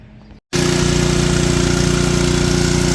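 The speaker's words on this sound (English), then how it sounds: "I hear a sprayer." A farm sprayer engine starts abruptly after a short gap, settling into a loud, steady, close mechanical drone with no talk.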